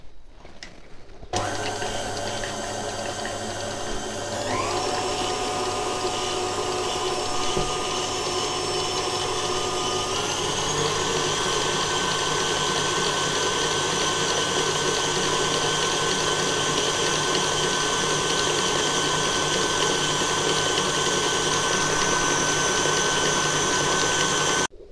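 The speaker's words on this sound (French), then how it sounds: "Donc on va maintenant monter la ganache au batteur." An electric mixer whips ganache in a bowl with a loud, continuous high whir that shifts pitch as the speed changes, running steadily for a long stretch with no talking.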